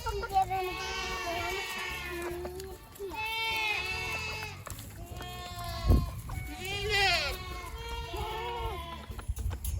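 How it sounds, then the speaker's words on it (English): Several farm goats bleat repeatedly in wavering, plaintive cries at close range, calling one after another around feeding time. "Are the goats hungry?"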